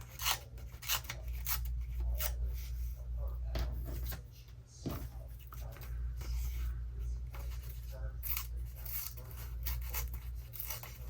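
Paper edges being roughed and trimmed for a scrapbook fringe, heard as close, repeated scratchy rasping and snipping strokes in irregular bursts over a steady low background hum.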